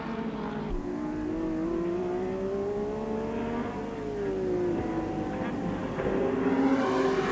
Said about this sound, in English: lapping the 3rd place man, Jim Richards, in the only 6-cylinder car in the race, the BMW 635